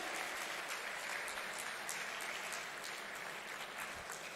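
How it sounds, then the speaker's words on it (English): Steady audience applause at an Innovate Tamil Nadu seminar, a dense wash of many hands clapping at moderate distance, continuous and even throughout with no voices standing out. "You have to clap."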